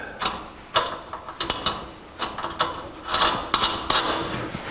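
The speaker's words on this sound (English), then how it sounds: "Take an 11/16 inch wrench and tighten them up." Ratcheting wrench, 11/16 inch, tightening nuts with flat and lock washers onto brake pedal bolts at the firewall of a 1949 Chevrolet gasser, giving several short bursts of clicking ratchet strokes, close and fairly loud.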